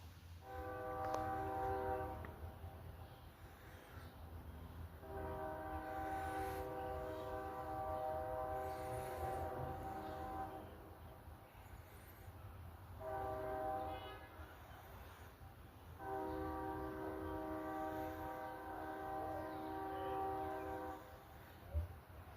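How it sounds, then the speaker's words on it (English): Ohio Central Buckeye 250 excursion train heading back toward Denison, Ohio, sounding its horn in several long blasts with steady rail rumble running beneath them throughout. "looks like the Ohio Central Buckeye 250 train's heading back up to Denison."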